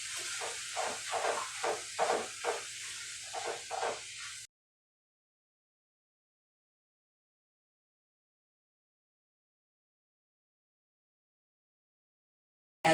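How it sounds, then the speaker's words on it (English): Cabbage cooking down over medium-low heat in a pan, giving a steady hiss and crackle with irregular louder sizzling pops for about four seconds before cutting to silence. "Now all we're doing here is just cooking this cabbage down until it's tender."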